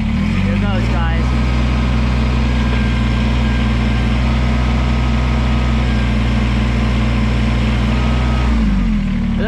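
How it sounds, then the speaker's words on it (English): A heavy tractor engine drones loudly and steadily while lifting a heavy backyard railroad trestle, its pitch rising slightly under strain, then dropping as the load settles. "I wonder if the tractor can lift this."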